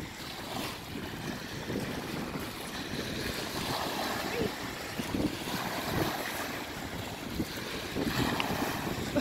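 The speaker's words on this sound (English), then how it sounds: "Y'all can hear that wind." Wind gusts across a mountain hiking trail above Bear Lake, Utah, buffeting the microphone in a steady, rough roar that swells and eases in waves, with faint voices mixed underneath.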